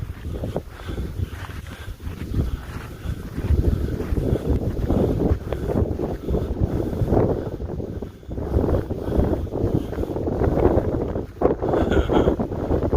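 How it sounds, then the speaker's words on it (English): Strong, steady wind on a mountain trail between Carver Gap and Doll Flats buffets the microphone in a continuous low roar that gusts and swells throughout. "Woo, windy."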